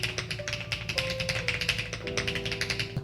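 Rapid, steady keystrokes on a computer keyboard, close and crisp, continuing for about three seconds with faint tones underneath.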